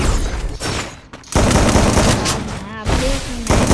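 Video game gunfire sounds as loud, dense bursts of automatic shots with brief pauses between volleys, while someone talks over the action.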